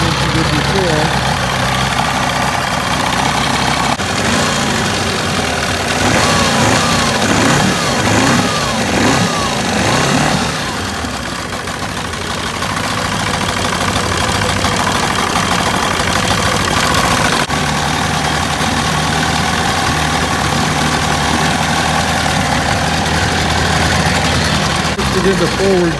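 A 1962 Johnson 75 hp outboard motor, fitted with a replacement distributor from an old power head, idles steadily and loudly close by with a low rumbling chug throughout, briefly dipping before settling again.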